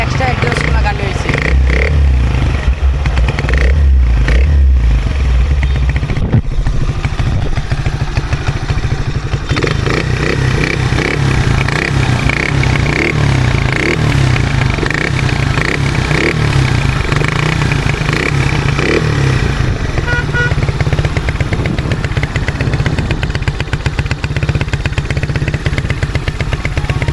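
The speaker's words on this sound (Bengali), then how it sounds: "মোটামুটি এক্সস্টর সেই সাউন্ড মনে হয় যে এক্সট্রা এক্সস্ট লাগানো হয়েছে।" Modified 100 cc motorcycle with an extra aftermarket exhaust fitted, its engine idling and revving loudly and close for a long stretch, with a rough clattering tone and people talking over it.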